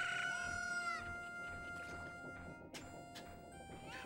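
A chicken dropping in a Mario 64 speedrun-style game: a bright electronic squawk and crow at the start, followed by quieter synthetic game effects and a few short clicks over a steady tonal background.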